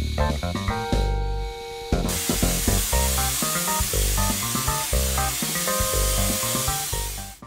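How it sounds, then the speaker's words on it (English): A paint spray gun applies coating to a surface. A broad steady hiss of spraying starts partway in and runs under a loud, busy layer of other sound until it fades at the end. "So remember, the key to successful spraying, keep your gun clean."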